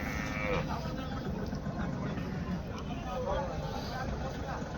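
A water buffalo moos at a busy cattle market. Long, low calls rise over a steady background of voices and crowd noise, fairly close.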